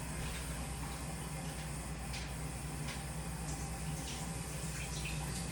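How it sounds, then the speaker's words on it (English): Tap water runs steadily into a container to rinse cut steak fries, a constant close hiss and splash with no pauses. "I fill it up with water, and as the water comes in, it's clean out"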